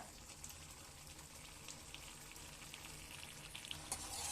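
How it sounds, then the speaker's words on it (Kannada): Pre-cooked chicken liver is stirred and fried in a pan, giving a soft, continuous sizzle with scattered small pops and occasional scrapes, heard faintly and at a distance. "ಚೆನ್ನಾಗಿ ಮಿಕ್ಸ್ ಮಾಡ್ಕೊಂಡು ಈ ರೀತಿ ಬೇಯಿಸ್ಕೋಬೇಕು ಇದನ್ನ"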